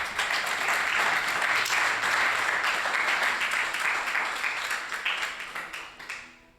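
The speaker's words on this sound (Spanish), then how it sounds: "Dale un aplauso al Señor." A church congregation breaks into sustained, dense applause during a sermon that holds steady, then gradually thins and fades away.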